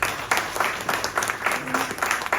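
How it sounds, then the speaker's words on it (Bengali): Audience applause at a Lions club gathering, a steady patter of many hands clapping at moderate loudness, fairly close, with no talk over it. "আমরা তার জন্য একটা আরো জোরে তালি দিতে পারি।"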